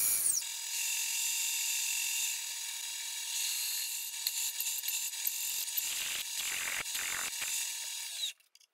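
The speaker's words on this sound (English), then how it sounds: "we'll center drill it first and then drill it with a half inch drill" A steady high-pitched machine whine of a milling machine center drilling a metal plate, with rattling and chatter as it cuts, then stopping abruptly near the end.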